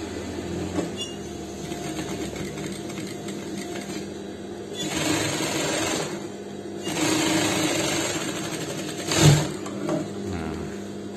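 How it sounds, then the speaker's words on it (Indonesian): A sewing machine stitches the button placket of a Pakistani-style shirt, its motor whirring in steady runs that stop and restart, ending with a brief louder burst, with no talk over it. "Nah, kita jahit yang sebelahnya lagi, luruskan posisinya sama jahitan yang pertama ya."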